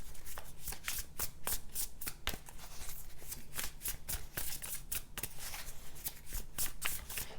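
Tarot cards are shuffled steadily, a soft repeated riffling and flicking that continues in an even rhythm throughout, close and quiet.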